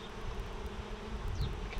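Honeybees in a backyard beehive buzz steadily and close by, a dense continuous drone with no voices.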